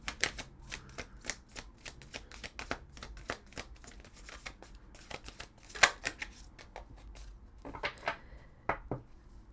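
Tarot cards are shuffled up close in a steady run of quick, crisp riffling snaps, faint and without talk.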